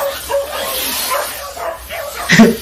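A dog in a short meme clip yips and barks a few times, sharp and close, the last bark loudest, with voices talking around it.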